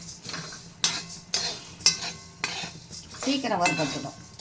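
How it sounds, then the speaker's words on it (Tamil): Coriander seeds dry-roast in a pan, stirred in regular scraping strokes with light rattling of the seeds against the metal, close and clear. "தனியாலாம் கொஞ்சம் மெல்லிசான பொருள்ன்றதுனால சீக்கிரம் வறுபட்டுடும்"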